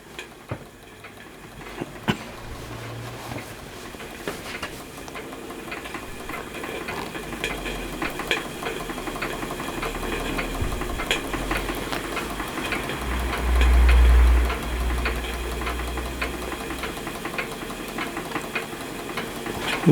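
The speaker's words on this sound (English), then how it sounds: "My Stuart Turner 10H running under steam on a very cold late January morning" A Stuart Turner 10H model steam engine runs under steam on a very cold morning, giving a steady low, knocking chug that continues evenly with no voices over it.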